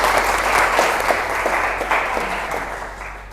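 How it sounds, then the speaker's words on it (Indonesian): Class of students at an Indonesian technology institute teaching session applauding together, a steady close round of clapping that gradually fades toward the end. "Tepuk tangan buat kita semua"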